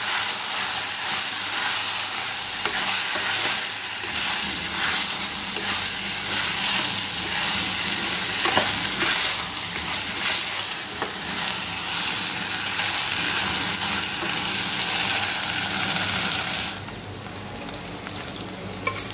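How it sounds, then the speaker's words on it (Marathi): Rice with salt for carrot-pea pulao sizzles and crackles as it is sautéed in a pan, a steady frying hiss broken by soft stirring scrapes, close up and without talk. "मीठ टाकून घ्यायचं आहे आणि छान परतवून घ्यायचं आहे।"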